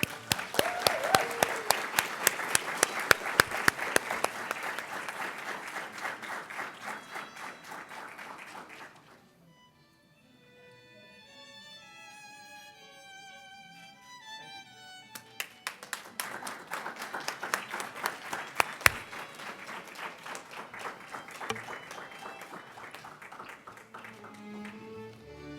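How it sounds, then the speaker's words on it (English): A graduation-ceremony audience claps for the graduates of a literacy program in two long rounds of steady applause, broken by a quieter stretch where a short melodic tune plays before the clapping swells again. "let's give them a hand of applause."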